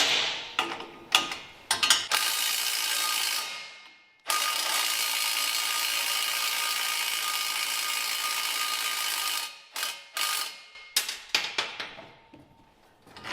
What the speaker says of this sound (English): So what we'll do is we'll remove this bolt.